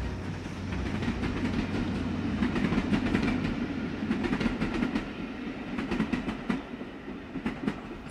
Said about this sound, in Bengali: কিছু টাকা হাতে নিয়ে ট্রেনে চেপে বসল শোভন